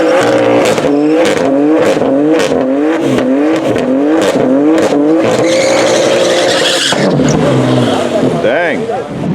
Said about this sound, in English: the BMW is about to make its third pass